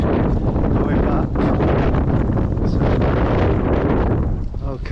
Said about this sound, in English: The headwind is very strong going back.